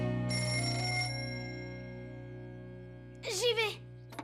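A cartoon telephone rings with a bright electronic trill, followed by a long fading tone. A cartoon voice then answers.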